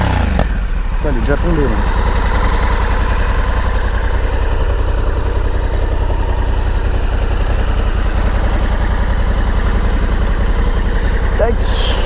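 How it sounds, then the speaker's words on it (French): A Honda Africa Twin with DCT gearbox, its exhaust rising briefly in a short rev before settling into a steady, throbbing idle close by, with people talking over it throughout. "j'aime bien le bruit du pot quand même"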